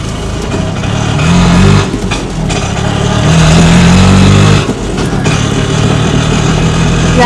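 An auto rickshaw engine drives along steadily, its loud, continuous drone rising and falling slightly as it runs, with no voices over it.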